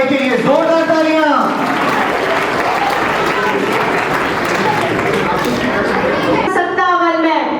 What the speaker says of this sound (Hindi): एक बार झांसी की रानी लक्ष्मीबाई के लिए जोरदार तालियां